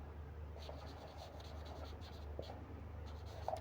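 Someone writes on a board during a physics lecture, producing faint, scratchy strokes in short bursts over a low steady room hum.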